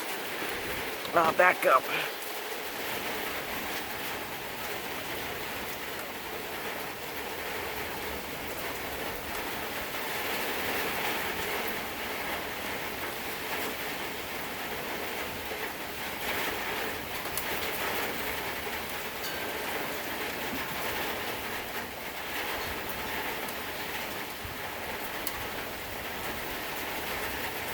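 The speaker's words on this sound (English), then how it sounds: "We're getting more rain." Heavy rain pours steadily during a severe thunderstorm with strong winds, a dense continuous hiss of drops on surfaces, with a brief voice near the start and faint background sounds under the downpour.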